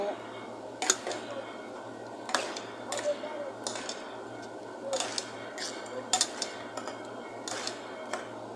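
Metal clatters of a lid being set on a cooking pot of beetroot curry, several sharp clinks spaced out over a few seconds, fairly faint against a quiet kitchen background.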